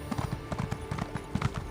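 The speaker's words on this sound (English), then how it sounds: "Let's get our horse out." Horse hooves clip-clop at a steady trot in Elder Scrolls Online, a close, even rhythm of hoof strikes with faint game ambience and no talk.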